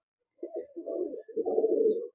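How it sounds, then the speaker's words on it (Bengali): Kaldoma pigeons in a loft cooing close by, two soft, low throaty coos, the second longer and fuller, in an otherwise quiet space. "দেখুন পায়রা কতটা অ্যাক্টিভ।"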